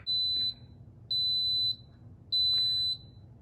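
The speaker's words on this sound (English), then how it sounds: "once it starts beeping, like it should in just a second" Three long electronic beeps from an electric pressure cooker, each about half a second, evenly spaced over a low background hum.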